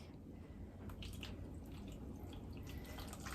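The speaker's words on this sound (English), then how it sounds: "I'm just going to pour some water to the bottom." Water poured into the bottom of a tray of seed-starting sponges for vining tomato seeds, giving a soft, steady trickle and splash with faint dripping throughout, close by and without talk.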